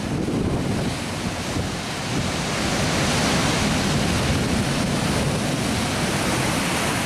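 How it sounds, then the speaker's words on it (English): Sea surf washes onto a rocky shore as wind blows up the channel, a loud, broad continuous roar with heavy wind buffeting the microphone and no speech. "the wind is blowing up the channel, so it's blowing the sea onto the shore anyway"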